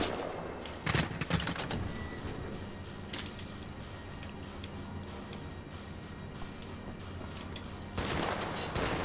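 Rapid gunfire crackles in the Wolfenstein: The New Order video game, with dense bursts near the start and again at the end over a steady wash of game noise.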